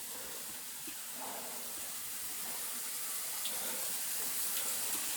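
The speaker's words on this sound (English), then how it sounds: "you can literally hear all the water kind of like coming in" Water runs and trickles into an abandoned, decaying building at a Japanese ghost-town onsen resort, a faint, steady hiss that swells slightly toward the end, heard alone.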